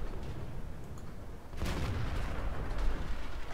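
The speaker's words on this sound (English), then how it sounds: "E25 up on the hill is taking shots at me, so I'm going to return the favour." A World of Tanks tank cannon booms once, a sudden heavy shot cutting through the low rumble of the battlefield with a lingering roar afterward, no voices.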